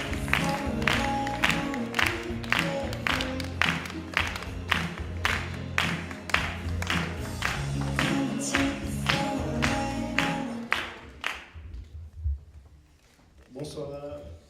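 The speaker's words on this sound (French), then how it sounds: "Et on l'applaudit" Applause from an audience at a slam poetry night greets a performer, with loud sharp claps and cheering under music and voices for about eleven seconds before fading, then a voice begins speaking.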